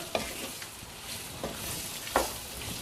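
Gooseberries simmer in spiced oil for a Tamil-style pickle, giving a soft, continuous sizzle broken by a few brief stirring scrapes and clinks, close and with no talking.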